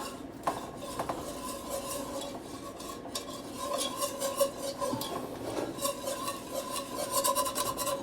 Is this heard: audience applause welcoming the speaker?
no